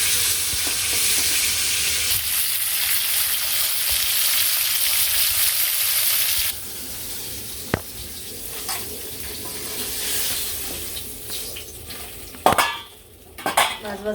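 Fish pieces frying in a pan in a village kitchen, a loud continuous sizzle that drops to a softer crackle halfway through, with a few clatters and knocks near the end.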